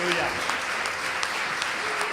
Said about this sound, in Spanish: Fuertes aplausos para la gloria de Dios y de apoyo a nuestros hermanos.